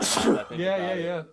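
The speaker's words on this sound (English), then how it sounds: "Sneeze! Bless you" One sharp, breathy sneeze bursts out at close range, followed immediately by a person talking.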